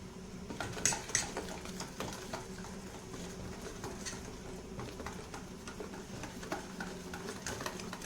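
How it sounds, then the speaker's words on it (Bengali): A utensil stirs flour into a melted sugar mixture for pancake batter, with faint scraping and scattered light clinks against the pan over several seconds and no voices. "ময়দা প্রথমে আমি অল্প পরিমাণে দিচ্ছি, দিয়ে আমি নেড়ে নিচ্ছি।"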